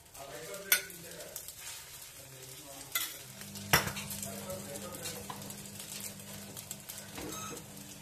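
An omelette fries in oil in a pan, giving a steady close sizzle with a few sharp clinks and scrapes of a utensil against the pan scattered across it.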